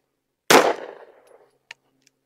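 A single sharp shot from a Taurus G3 Tactical pistol firing 115 grain ammunition, loud and close with a short decaying echo, followed by a faint metallic click and a tiny tick.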